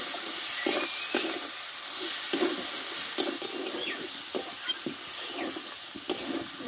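Chopped tomato, green chilli and coriander leaves are stirred in a pan, with a steady hiss and sizzle under regular scraping strokes of the spoon against the pan.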